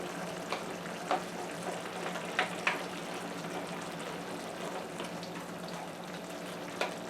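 Shrimp sizzles steadily in a frying pan for salsa shrimp, a low continuous hiss broken by a few sharp stirring clicks and spatters.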